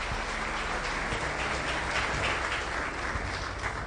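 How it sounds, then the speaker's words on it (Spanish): A church congregation claps in a sustained, fairly even wash of applause, slightly distant and uninterrupted by talk. "Aplaude al Señor"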